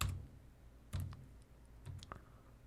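Keys clatter on a computer keyboard as a number is typed, a few short clusters of crisp clicks close by, with a quiet low hum underneath and no talking.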